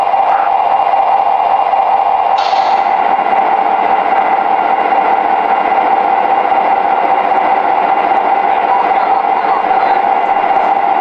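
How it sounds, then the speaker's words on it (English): MTH model train Burlington F-7 diesel locomotive starting up and running with a steady, loud mechanical hum and whir that holds evenly throughout. "Starting up the engine."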